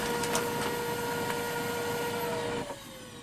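A Brother laser printer runs as it prints toner onto baking paper sanded with 1200-grit sandpaper: a steady whirring mechanical drone with faint clicks, which drops off sharply near the end, leaving a quieter hum.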